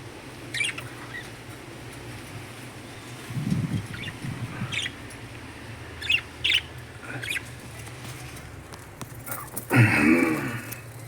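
Sparrows give scattered short chirps and squawks outdoors, fairly faint against a steady background hum, with a louder rustling burst near the end.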